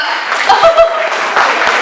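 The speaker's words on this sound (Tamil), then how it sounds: "கைதட்டுங்கப்பா" Audience clapping at a Tamil New Year 2024 gathering in Essen and Mülheim, a moderately loud patter of hands with a few chuckles and murmuring voices mixed in.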